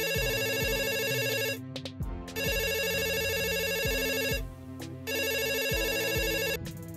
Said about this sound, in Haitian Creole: m'entendais téléphone moi k'ap sonné